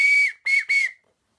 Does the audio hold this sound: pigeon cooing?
no